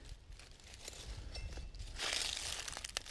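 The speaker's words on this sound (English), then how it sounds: "It was chewing on the hickory nuts, and you can hear the sound they make." A squirrel gnaws on hickory nuts outdoors, giving quiet, irregular crunching and crinkling bursts that grow denser and louder toward the end.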